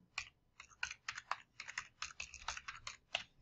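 Rapid, close-up clatter of keys on a computer keyboard as an email address and password are typed, bursts of crisp taps in uneven runs with short pauses, with nothing else audible.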